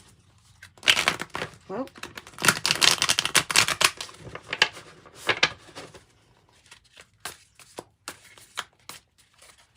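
Tarot cards are shuffled by hand in a quick, crisp riffling flutter, loudest in the first half and then thinning to scattered soft flicks, with a brief voice exclamation.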